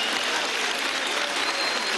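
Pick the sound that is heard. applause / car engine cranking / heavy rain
applause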